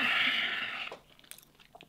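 Crisp crunching from a bite into the crackly skin of a roast lamb back served over kabsa rice, following about a second of steady hiss, then several sharp, close chewing crunches with no talk.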